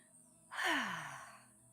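A single slow, audible exhale during a gentle yin yoga session, a soft breathy sigh that swells quickly, then trails off with a faint voiced hum in a quiet room.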